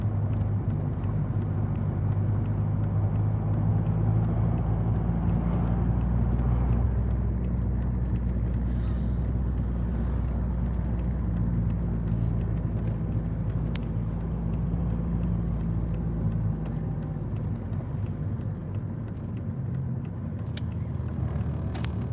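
Steady road traffic while driving at night through Gatlinburg in the Smoky Mountains, a continuous low engine and tyre rumble that stays loud and even throughout, with no talk.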